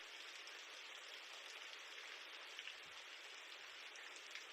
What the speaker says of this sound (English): There's nothing stopping the rain, no way to stop it.